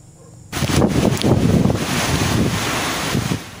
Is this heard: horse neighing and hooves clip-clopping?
no